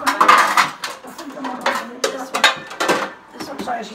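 A square metal baking pan clanks and scrapes as it is picked up and set down in a test kitchen, several short knocks in close succession, with voices talking nearby.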